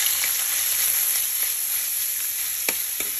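Ground pork marinated in soy sauce, garlic and pepper sizzles in a pan for sautéed mung beans. The frying is a constant bright hiss with a couple of small clicks near the end, and there is no talk.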